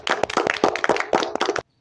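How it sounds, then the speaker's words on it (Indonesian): Brief burst of hand clapping for a student in a classroom session, a short round of claps lasting under two seconds before cutting to silence. "Tepuk tangan untuk Cecil."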